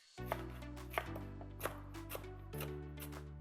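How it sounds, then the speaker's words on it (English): Red pepper being chopped on a cutting board, a handful of distinct knife thuds spaced unevenly over a steady background hum, close up and without talk. "Next, we're gonna chop some red pepper."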